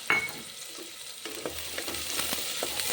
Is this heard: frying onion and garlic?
yes